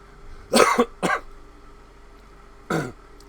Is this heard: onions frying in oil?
no